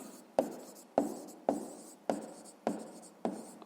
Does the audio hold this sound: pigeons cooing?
no